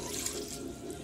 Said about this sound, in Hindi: अब इसमें 1/2 कप पानी डाल देंगे